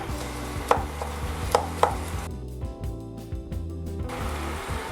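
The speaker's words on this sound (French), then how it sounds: "Je vais les couper en petits cubes" A knife chops mushrooms into small cubes on a board for tomato, olive and cheese stuffed mushrooms, a few sharp close knocks over a continuous low hum.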